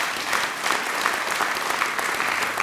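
Audience applause at a fall 2015 Urban Possibilities performance, a dense, steady wash of many hands clapping that holds evenly throughout without a break.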